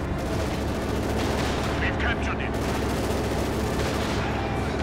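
Dense, continuous gunfire from a Company of Heroes 2 battle rattles on throughout, loud and layered, with a commentator's voice faintly running beneath it.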